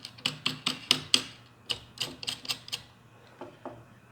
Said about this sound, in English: tighten everything in place using bolts